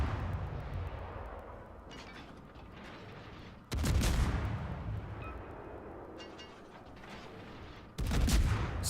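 Naval gunfire in a video game, ships' guns firing on the Izumo in heavy booming salvos: two loud bursts stand out against a constant roar of distant battle and scattered shots.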